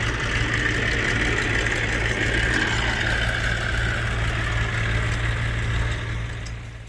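Tractor engine running steadily while sowing sesame in a farm field, a continuous low mechanical drone with broadband hiss, fairly loud and close, fading slightly at the end.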